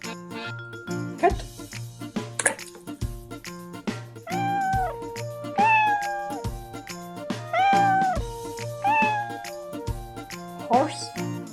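A cat meows several times, its rising and falling cries standing out over a light jingling musical backing, with a short spoken word.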